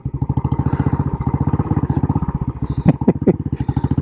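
A Royal Enfield Military Classic 500 single-cylinder motorcycle thumps along with a steady, loud, rapid pulsing beat, heard up close while riding, with a few brief clicks and rattles partway through.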